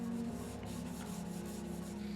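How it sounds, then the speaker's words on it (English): Faint, steady rubbing rasp of sanding inside the handle cutouts of a walnut and maple cutting board, a continuous back-and-forth scrub with no voices. "Then I sand inside the handles."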